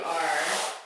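Saw teeth scraping across the material in one brief rasping stroke, close and fairly loud, with no talking.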